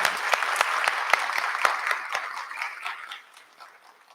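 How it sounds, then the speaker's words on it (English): Audience applause at a physical therapy white coat ceremony: a dense wash of many hands clapping with sharp individual claps, loud at first, then thinning and fading toward the end. "give yourselves a round of applause for everybody that's supporting our students"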